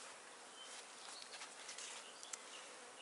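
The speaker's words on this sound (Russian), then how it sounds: "на выходе, эти пчелки." Honeybees crawling on a hive frame while splitting a colony in bad weather give a faint, steady buzzing hum with a few brief louder wingbeats, and no talk.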